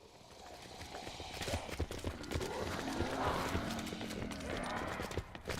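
A horse gallops in a video game, its rapid clip-clop hoofbeats running steadily through a busy, moderately loud game soundscape, with a brief whinny-like tone in the middle.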